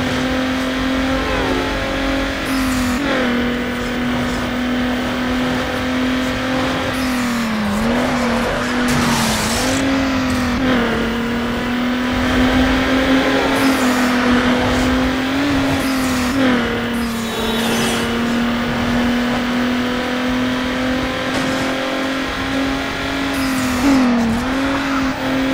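A Toyota Supra races in Need for Speed Underground 2, its engine droning steadily and loudly throughout with revving swells, gear shifts and bursts of tire squeal, with no voices.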